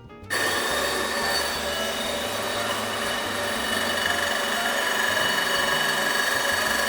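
A Gemini Revolution XT ring saw starts up with a sudden switch-on and then runs with a steady high-pitched mechanical whine and hum while cutting tile, continuous and close, no speech.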